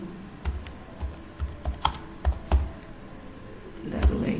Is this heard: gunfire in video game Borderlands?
no